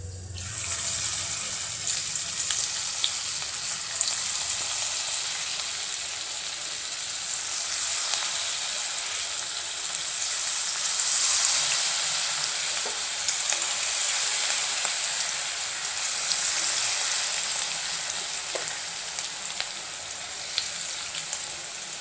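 Cauliflower frying in a hot pan with a loud, continuous sizzle and crackle, mixed with occasional scraping and stirring noises, going on steadily for over twenty seconds with no talking.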